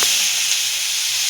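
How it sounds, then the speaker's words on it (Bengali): Nigella seeds sizzle in hot oil in a pan for a homestyle tilapia curry, a loud, close, steady bright hiss throughout. "দিলাম কালো জিরা ফোড়ন"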